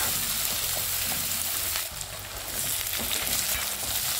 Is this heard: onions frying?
yes